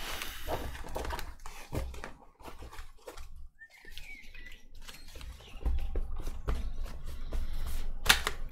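Tarot cards being shuffled by hand, a steady papery patter and flicking with sharper snaps near the end, close and fairly quiet, with no talking.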